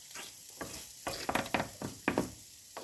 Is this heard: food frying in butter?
yes